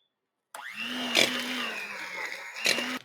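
Electric hand mixer with beaters beating cookie dough in a home kitchen: a steady whirring motor hum starting after a brief silence, with louder clattering bumps as the beaters knock the bowl.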